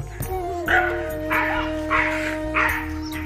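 A dog barks in a rhythmic series of about five evenly spaced, moderately loud barks over a steady tonal hum.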